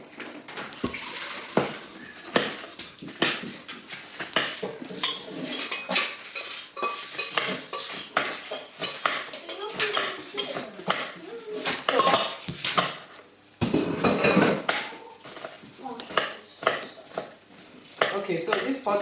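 Metal cooking pots are swapped on a kitchen stove while spaghetti sauce is made, with repeated clanks, scrapes and clatters at close range and voices heard at times between the knocks.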